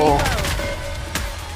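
Rapid bursts of gunfire rattle through the Nikke video game action, a dense barrage at the start and a sharp burst near the end, mixed with tonal game sounds and voices.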